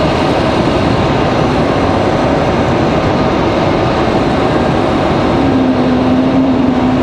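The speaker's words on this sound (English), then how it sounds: "there's definitely an A220 hiding in the trees. There it is, JetBlue" A JetBlue Airbus A220 airliner passing near Raleigh-Durham airport, a loud continuous broadband engine roar that stays steady throughout, with a rising tonal whine toward the end.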